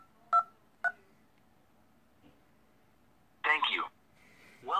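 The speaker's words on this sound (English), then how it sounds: "please enter the following number on your phone's touchtone pad" Touch-tone keypad dialing on a phone call to an automated Windows XP product activation line: two short beeps close together, a pause, then a quick burst of tones and one more starting at the end, clear and alone.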